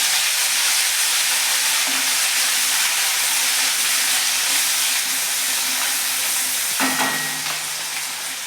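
Crushed onion-tomato paste hitting a hot pan with chili paste for Kathiyawadi kaju gathiya shaak, giving a loud steady sizzle and hiss that runs throughout, with a brief clatter near the end.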